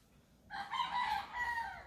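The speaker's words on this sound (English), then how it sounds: "Yep, I hear you, Rooster." A rooster crows once, a drawn-out rising and falling call at moderate distance, standing alone against quiet background.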